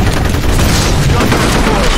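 Grenade blast and gunfire in the multiplayer shooter F.E.A.R., a dense, continuous roar of booms and rapid shots filling the clip, with players' voices mixed faintly in the din.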